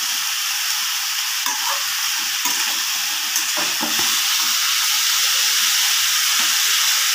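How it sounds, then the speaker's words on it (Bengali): Potato and pointed gourd curry with salt and turmeric fries loudly in a pan: a dense, unbroken sizzle close by, with scattered scrapes and stirring knocks throughout. "এবার তরকারিটা ভালো করে ভেজে নেব"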